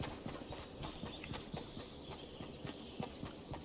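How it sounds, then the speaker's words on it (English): Footsteps in the video game Fortnite patter along in a quick, steady rhythm of light thuds, faint and fairly distant, with no one speaking over them. "I keep hearing footsteps"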